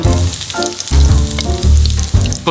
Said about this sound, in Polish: Niech się nasza cukinia smaży.